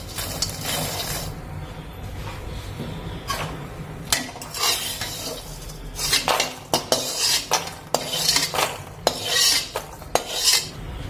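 Roasted makhana (fox nuts) pour and clatter into a metal vessel, a steady run of sharp metallic scrapes and rattles building into louder, irregular clinks close by, with no talking.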